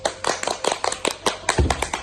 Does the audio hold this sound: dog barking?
no